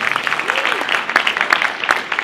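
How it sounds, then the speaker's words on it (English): Audience at a university lecture event clapping together, a dense, steady burst of applause filling the room from start to finish, with a faint voice underneath. "Can I hear the applause?"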